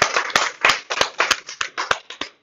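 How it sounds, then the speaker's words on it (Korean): An audience in a university classroom lecture claps in a short burst of about ten sharp, fairly even claps, close and moderately loud, before stopping. "이야, 박수."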